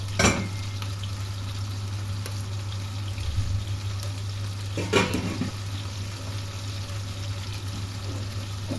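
Fish frying in a pan on a home stove, a steady close sizzle running throughout with a few brief clatters of utensils and no talking.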